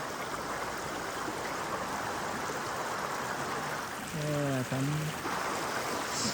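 A village river stream in Arghakhanchi, where people swim, rushes in a loud, unbroken wash of flowing water, with a brief voice rising over it near the end.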